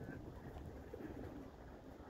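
Pigeons coo in a low, continuous murmur close by, with a dense, steady rumble running through the whole stretch and no talking.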